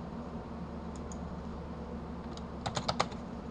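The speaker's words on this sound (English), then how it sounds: "Retype the password." Keys tap on a computer keyboard as a password is entered, a few soft clicks early and then a quick close cluster of keystrokes near the end over faint background hum.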